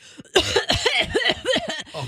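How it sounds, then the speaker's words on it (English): A person in a room coughs repeatedly in a rapid series of loud, close hacking bursts, several coughs run together over about two seconds. "why are you coughing all over the room?"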